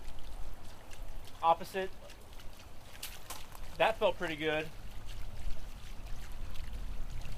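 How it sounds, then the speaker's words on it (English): Water spilling over the rim of a fountain pot makes a steady, close trickle that runs for the whole stretch, with a person talking briefly over it. "I'll put my hands on either side of the pot and just see if it feels like the same amount of water is coming over"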